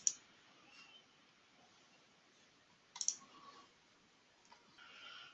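Faint computer mouse clicks, two sharp isolated taps a few seconds apart with a softer one later, quiet and close against low room noise.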